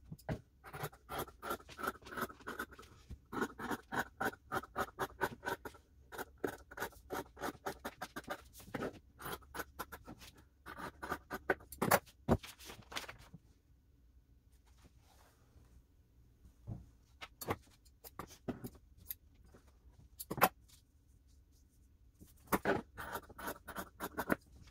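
Scissors cut fabric for a child's apron pattern in quick rhythmic snips and scrapes, close and fairly quiet. Brief lulls break up the cutting.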